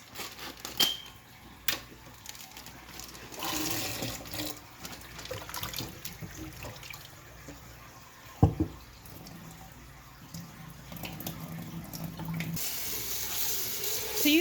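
Tap water runs into a sink while peas are washed by hand, with intermittent splashing, clinks and handling noises close by.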